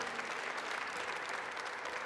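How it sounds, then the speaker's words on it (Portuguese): A church congregation applauds during a Mass for the Feast of the Exaltation of the Holy Cross, producing a brief burst of dense, steady clapping from many hands. "aplauda o Senhor e assuma essa beleza"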